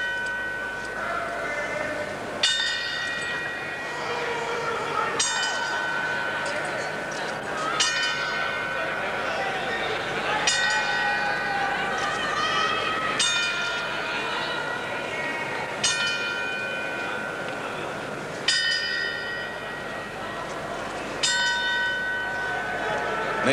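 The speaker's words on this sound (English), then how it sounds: "they're tolling the 10-second bell" Ringside bell at a Mike Tyson versus Tyrell Biggs boxing event tolled as a ten-count tribute: evenly spaced, ringing metallic strikes about every two and a half seconds, each decaying slowly over quiet arena ambience.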